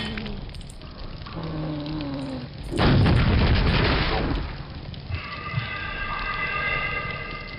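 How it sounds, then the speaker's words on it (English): A grenade explosion in Quake 2 gives one loud, rumbling blast lasting about a second, with synthetic game tones and hums before and after it. "Quake 2 grenades."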